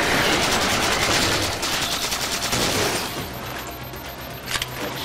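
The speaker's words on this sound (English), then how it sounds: "There's a turret." Turret firing in the Halo Spartan Ops video game, a dense rapid stream of loud automatic gunfire that slightly eases toward the end, with a brief burst near the close.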